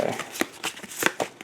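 Threat cards for a Spider-Man board game being shuffled by hand: quick riffled slaps and flicks in a brief run of sharp, close bursts, with no talk.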